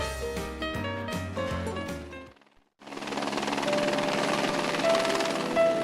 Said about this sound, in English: A trip by helicopter remains the most impressive way to travel to Moorea.